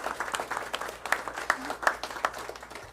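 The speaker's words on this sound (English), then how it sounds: "Let's give that team a quick round of applause" Quick round of applause from the audience at a school board of trustees meeting, honoring a student judging team; steady scattered clapping at moderate level with a few sharper individual claps, lasting about three seconds.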